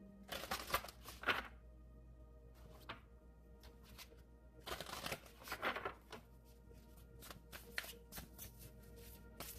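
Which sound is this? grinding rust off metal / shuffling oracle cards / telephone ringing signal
shuffling oracle cards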